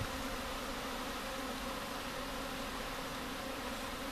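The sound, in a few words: honey bees buzzing around a hive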